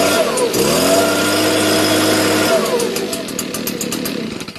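A gas leaf blower, set on choke after a primer bulb press and a rope pull, fires up close by and drones steadily before its tone shifts into a rougher, busier run.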